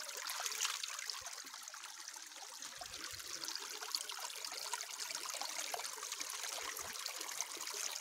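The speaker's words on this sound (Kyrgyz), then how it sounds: "Шылдыр аккан муздак булак." Cold spring water bubbling up from a mountain source at Kainar-Bulak, a steady close trickle and babble with small gurgles, alone without talk.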